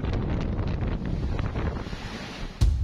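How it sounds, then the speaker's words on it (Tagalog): Strong wind from Typhoon Uwan roars continuously as steady broadband noise buffeting the microphone, with a sharper gust thump near the end. "malakas din ang hangin"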